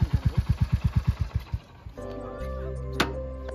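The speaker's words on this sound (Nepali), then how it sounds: "राम्रो पार्क गर न बाइक" A motorcycle engine idles close by with a steady thumping putter, then drops to a lower, smoother hum as the bike is parked near a helipad, with a brief clunk near the end.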